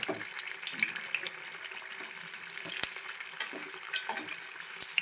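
Carom leaf bajji fritters frying in hot oil, a continuous crackling sizzle with sharp pops and occasional stirring clatter.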